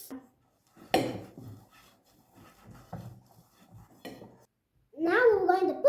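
Cranberries and dried grapes being mixed into baking dough in a bowl: scattered clinks and scrapes of utensils against the bowl, with a louder burst of clattering and scraping at the end, and a voice in the background.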